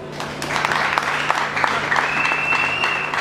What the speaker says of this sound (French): Vous méritez l'applaudissement